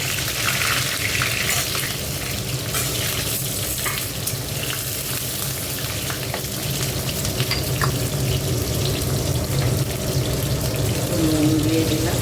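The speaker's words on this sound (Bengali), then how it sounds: "এবার দেখো পটলগুলো একটু ভেজে নিচ্ছি।" Pointed gourd (potol) sizzles and fries in hot oil in a pan, a steady close crackling hiss that continues throughout with no talk.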